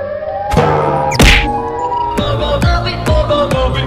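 Wailing, harmonic siren cry of the Siren Head monster in a video game, alone and loud, broken by a few heavy thuds and whacks.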